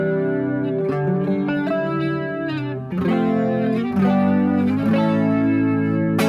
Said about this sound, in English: Middle button, this patch is a chorus.